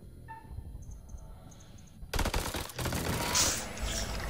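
Gunfire in the video game House of Ashes bursts in rapid volleys after a quieter opening, loud dense crackling shots that continue to the end of the clip.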